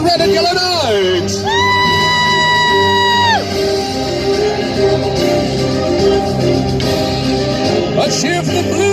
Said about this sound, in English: A cheer for the blue knight!